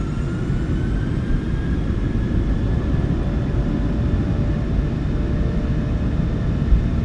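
Airliner engines at takeoff power in Microsoft Flight Simulator 2024 during a crosswind departure from Long Beach, a loud steady low roar with a faint whine above it, constant throughout.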